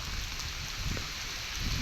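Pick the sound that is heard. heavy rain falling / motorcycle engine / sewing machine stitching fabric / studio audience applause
heavy rain falling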